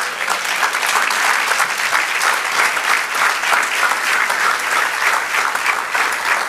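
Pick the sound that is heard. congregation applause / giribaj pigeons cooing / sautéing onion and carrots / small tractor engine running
congregation applause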